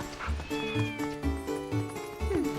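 Several cats meowing and yowling in Zelda: Twilight Princess on GameCube, repeated close cries in a rhythmic loop over a soft game music backdrop.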